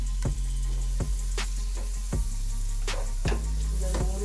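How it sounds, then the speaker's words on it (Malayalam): Chopped tomatoes hit hot oil and frying spices in a pan for pork biryani, making a steady, close sizzle broken by periodic scraping stirs. No one speaks. "ചെറുതായിട്ട് അരിഞ്ഞു വെച്ചിരിക്കുന്ന തക്കാളി നമ്മൾ ചേർത്ത് കൊടുക്കുകയാണ്"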